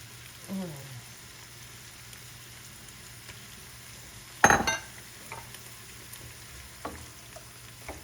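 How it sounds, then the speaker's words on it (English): Beef and all its juices go into a hot pan of red wine sauce. A low sizzle is interrupted by a loud splashing burst as the meat lands, followed by continued frying with faint clinks of utensils. "I'm going to add in the meat and all of its juices."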